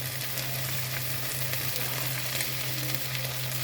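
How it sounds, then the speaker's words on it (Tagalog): Oyster sauce hitting a hot frying pan, a loud steady sizzle with light stirring scrapes over a low constant hum, no voices. "lagyan natin ng ating oyster sauce"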